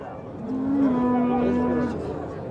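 A grey cow at a livestock market lets out one long, close, steady moo lasting over a second, over a low murmur of market background noise.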